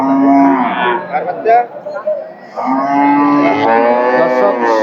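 A cow moos loudly and close by at a cattle market, two long drawn-out calls separated by a brief pause.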